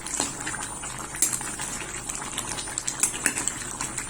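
Nigerian vegetable soup bubbles at a steady boil in a pot, with a close, continuous simmering hiss broken by irregular pops and gurgles.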